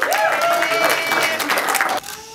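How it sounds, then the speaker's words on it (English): Wedding guests applaud in a church-style ceremony, a short burst of clapping heard together with music or voice tones, which drops away abruptly near the end. "Let's give some applause for our Lord."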